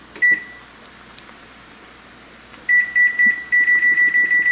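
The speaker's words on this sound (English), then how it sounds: "So let me put my timer on." Kitchen timer being set: a single beep, a pause, then a rapid string of short, loud, even beeps up close over a low steady hum.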